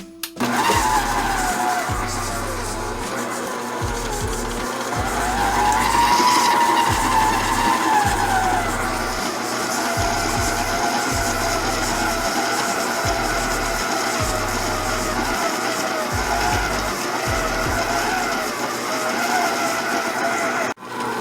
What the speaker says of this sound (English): Now we're just going to go ahead and cream our sugar and butter together.